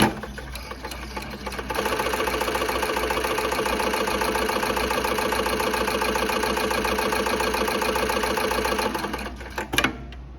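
A VMA 3020GH industrial sewing machine starts up and runs at a steady rapid stitching rhythm for several seconds, loud and close, then winds down with a couple of clunks near the end.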